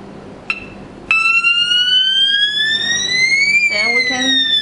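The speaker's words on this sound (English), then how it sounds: "This sound it is for 119 for the firefighting sound" LS-104 LONGSIN strobe light siren playing its 119 fire engine tone: after a brief beep, a loud electronic wail sweeps steadily upward, then drops and restarts, sustained and close.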